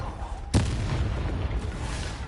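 A Confringo fire spell in Hogwarts Legacy goes off as one sudden deep boom with a sharp onset. A rumbling, crackling tail fades out over about two seconds.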